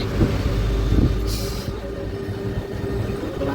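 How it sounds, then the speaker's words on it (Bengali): Loud, close rumble and clatter from inside a moving Gede local passenger train, with rolling wheel noise running continuously throughout. "ট্রেনে উঠে পড়লাম গোপালনগর থেকে এখন আছি গেদে লোকালে"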